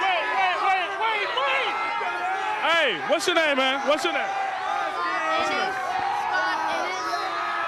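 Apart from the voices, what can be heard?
crowd cheering at homecoming football game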